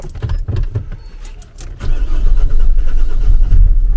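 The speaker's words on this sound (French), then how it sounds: "nous démarrons le camion" A Renault truck engine cranks and catches, a few rough turns giving way to a loud, steady low rumble close by.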